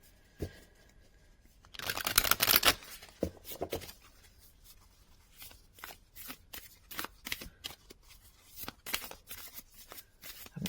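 Flower Oracle card deck being shuffled by hand, a loud riffling burst early on followed by a run of crisp, separate card snaps and slides spaced irregularly, close and with no voices.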